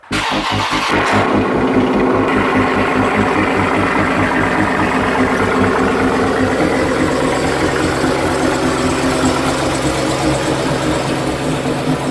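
A widebody car's engine turns over and catches, then settles into a loud, steady idle with a throbbing low pulse, heard close and continuous while the car is moved outside.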